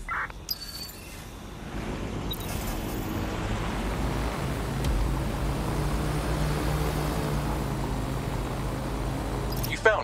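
Drone in the video game Watch Dogs: Legion hovering and flying with a steady broadband whirring hum, fairly loud and continuous, after a brief electronic blip at the start.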